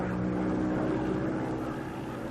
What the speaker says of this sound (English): Here, one of our aircraft, an Avenger, returns with a missing left wheel and makes a safe landing.